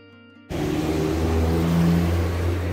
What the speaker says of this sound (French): j'attendais que la voiture se passe